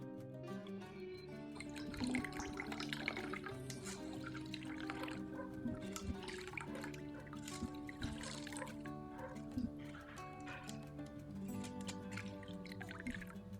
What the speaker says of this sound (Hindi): अब मशरूम को छान लेते हैं और इन्हें हल्के हाथ से दबाकर इनका अतिरिक्त पानी निकाल देते हैं।